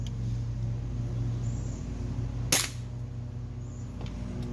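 A Hwasan/Farsan Target Series airsoft pistol with a light trigger fires a 0.25 g BB through a chronograph outdoors on a hot day: one sharp, close pop midway through, set against a steady low background hum.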